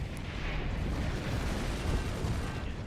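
Cannon fire in the physics-based fort-building strategy game Forts, a dense, continuous rumble of heavy blasts with sustained low booming throughout and no distinct pauses.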